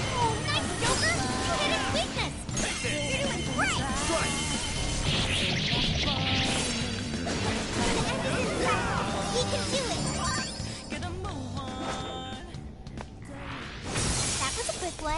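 Glass objects shatter in the Persona 5 Strikers video game, giving repeated crashing smashes amid busy battle effects, music and character voices.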